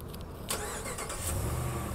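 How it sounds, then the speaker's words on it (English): A 2016 Ram 1500 Sport 4X4 pickup starts up via remote start: a sharp crank at close range catches quickly and settles into a steady low idle, with no voices. "Press this button twice, the doors are locked, and the truck will start right up."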